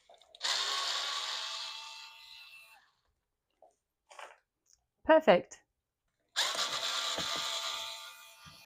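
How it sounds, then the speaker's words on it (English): A small Azito drill bores screw holes for a bracket while a remote-controlled roman blind is being installed indoors. There are two close, whirring bursts of a couple of seconds each, with quiet handling noise and a brief spoken word between them. "I'm going to have to get the little Azito drill"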